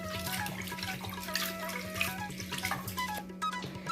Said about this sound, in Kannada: ಈಗ ಅದಕ್ಕೆ ನೀರು ಹಾಕಿ 2ರಿಂದ 3 ಸಲ ಚೆನ್ನಾಗಿ ತೊಳಿಬೇಕು